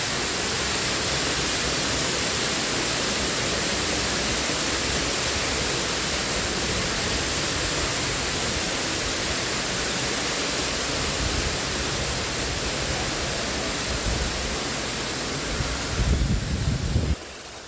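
Water rushes noisily at Hong Kong Park, a dense, steady broadband roar like a waterfall, loud and unbroken, with a brief thump near the end.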